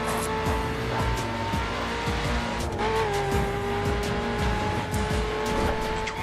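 Car engines drone and rev continuously in The Crew racing game, with steady tonal engine hum, tire squeals and skidding across the whole stretch, loud and close with no talk over it.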